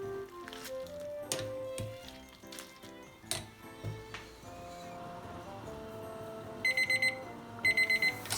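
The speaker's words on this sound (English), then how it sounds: "I'm gonna turn the timer to 3 minutes." Kitchen timer ringing after three minutes of boiling noodles for cold ramen, two short bursts of rapid bright electronic beeping near the end over kitchen clatter and the hum of cooking.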